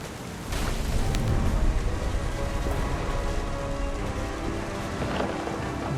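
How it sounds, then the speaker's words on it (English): Heavy, steady rain hisses close by while a deep thunder rumble rolls underneath, loud and constant for the whole stretch with no voices. "The thunder sounded much too close and full of angry power."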